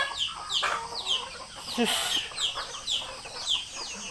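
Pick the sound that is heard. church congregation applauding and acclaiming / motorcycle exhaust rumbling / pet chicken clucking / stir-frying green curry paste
pet chicken clucking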